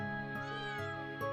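A cat in the video game Trails of Cold Steel 3 gives three short, clear, tonal meows in quick succession, alone and close.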